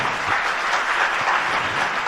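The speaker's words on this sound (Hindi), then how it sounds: "आप ताली अच्छे से बजाना हमारी स्वाध्याय में" Steady audience applause fills a Jain monk's morning religious study class in Damoh, a dense, even wash of many hands clapping together with no voices over it.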